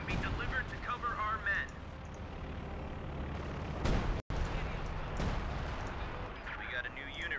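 Artillery fire in a Company of Heroes 2 match, heavy booming blasts and rumbling impacts rolling through a noisy battle bed, with a sharp loud hit midway and voices talking over it.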